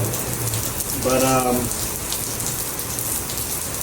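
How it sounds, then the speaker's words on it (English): Steady rain falls in a continuous hiss over a yard, loud and even throughout, with a brief spoken word partway through. "So I decided it was going to rain early."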